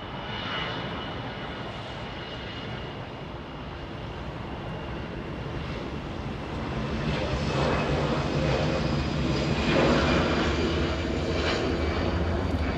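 An Allegiant Air A320 jet airliner departs LAX on a flight to Fargo, its engines making a broad, steady roar that swells toward the end and stays at a moderate distance.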